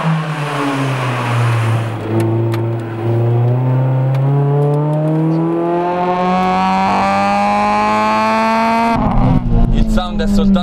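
A Honda Integra Type R, a front-wheel-drive car, accelerates hard through the gears, its engine note climbing steadily in a loud, rising wail, then a gear change and renewed pull near the end. The sound is close and continuous.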